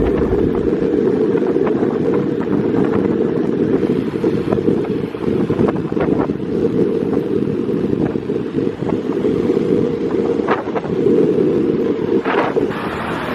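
Loud, constant wind roar buffeting the microphone while riding a motorbike through hot Bangkok traffic, with a low rushing rumble underneath and occasional faint clicks.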